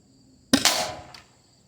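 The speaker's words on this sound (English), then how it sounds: "Shooting both barrels." A single sharp report from an Umarex T4E HDS double barrel home defense shotgun firing both barrels, a loud close crack with a short rushing tail and a faint second pop right after.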